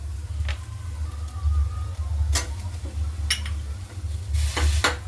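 Milk with softened carrots and khoa being stirred in a pan for carrot basundi, with a low simmering bubble underneath and occasional sharp scrapes and clinks of the spoon against the pan.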